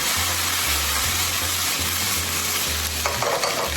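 Beef sizzles and fries steadily in a pan as its juices cook off, a loud continuous hiss with stirring over a low, intermittent hum.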